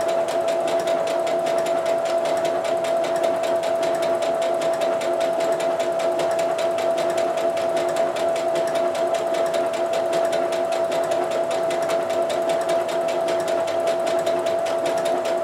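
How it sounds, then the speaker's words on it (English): A sewing machine runs continuously at a steady pace while stitching cosplay fabric, a close, even mechanical whir with rapid rhythmic needle ticking and no talk. "allowing the sewing machine to pull the fabric through at its own pace."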